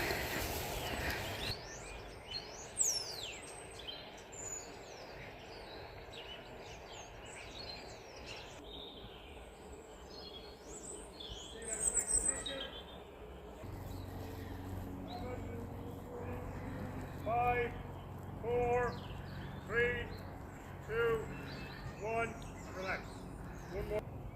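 Birds sing outdoors in a wooded area, several chirps and short calls near and far, some close and clear, with a person speaking at times amid the birdsong.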